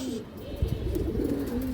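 Pigeon for sale gives a soft, low, throaty coo that rises and falls in a brief phrase, close by and fairly quiet, over a faint background hum.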